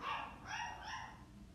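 A dog barks and yips in a short high-pitched burst, fairly close, then trails off into quieter whining.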